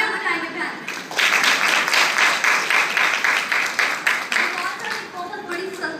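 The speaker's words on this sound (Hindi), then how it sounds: "तालियां बजाएंगे बहन।" An audience at a religious gathering bursts into loud, sustained applause, dense rhythmic clapping that swells and then slowly fades, with a voice faintly audible at the start.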